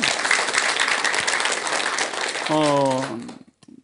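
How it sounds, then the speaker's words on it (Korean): An audience at a Buddhist monk's lecture bursts into sustained clapping, loud and dense for about three seconds before a voice cuts in over it and the applause stops. "박수 한번 드리세요"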